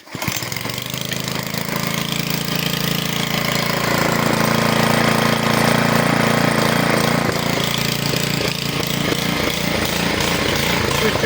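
A Honda walk-behind tractor used as a lawnmower fires up at once and settles into a loud, steady, rattling engine drone that runs unbroken nearby with no voices.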